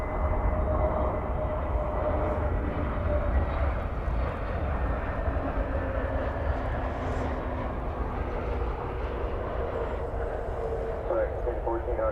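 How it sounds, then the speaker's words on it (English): An American Airlines Airbus A321neo arriving from Phoenix lands at DFW Airport, a steady loud engine roar and rumble lasting throughout, with a voice talking over it. "It's American 2382 coming in from Phoenix, Arizona, an Airbus A321neo."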